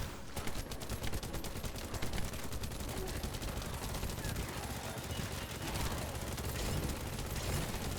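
Dense, continuous rapid gunfire from The First Descendant video game rattles on without a break, with other game effects layered underneath.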